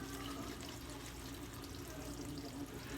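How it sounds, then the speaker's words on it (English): Water trickles into a shaving bowl before lathering, a soft steady pouring and splashing sound that stays even and close throughout. "You start off with a little bit of water in the bowl or a little bit of water in the bristles."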